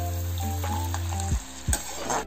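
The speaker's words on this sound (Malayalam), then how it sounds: "നമുക്ക് കടല വറുത്തെടുക്കാം." Peanuts roasting in a pan for a spicy Kerala snack mixture, a steady close sizzle with a couple of brief scraping stirs.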